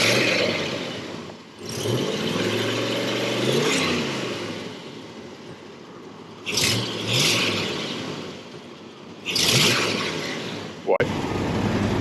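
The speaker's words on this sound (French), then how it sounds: "Le moteur tourne bien." A 1972 Chevrolet Corvette with an LS5 454 V8 idles with a deep rumble and is revved several times, the pitch climbing and falling, while someone talks nearby.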